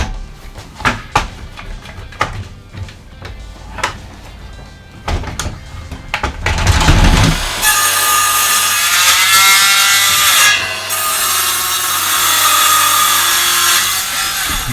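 A few sharp knocks and handling sounds come first, then a power saw rips 5x1 PSE timber during a narrowboat conversion, a loud, sustained whining cut that runs close up through the second half.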